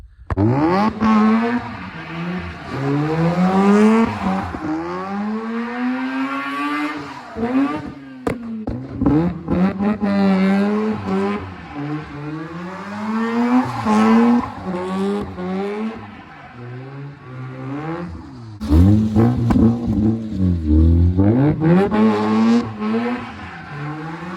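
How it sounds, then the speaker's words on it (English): A Mazda RX8 built for touge driving doing loud donuts, its rotary engine revving high and rising and falling in repeated sweeps, with tire squeal and brief dips as it circles, close and loud throughout. "I've been wanting to just do loud donuts in this car for a while."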